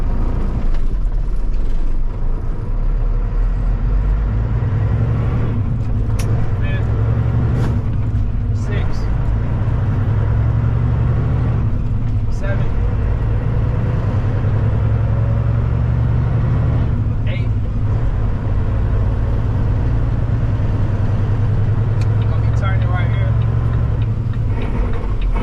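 A Volvo truck with a 10-speed manual transmission idles in neutral, its steady low engine drone running unbroken throughout while someone talks over it.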